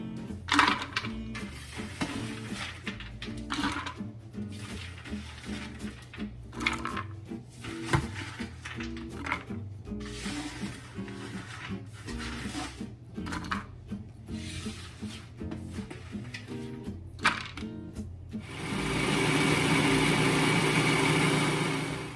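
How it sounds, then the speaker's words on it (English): Toasted pecans are handled and poured in with rattling, scraping and clicks before a food processor starts up near the end, a loud, steady whirring roar that pulverizes them to a powder. "I'm about to put them into the food processor and pulverize them so that they become like a powder"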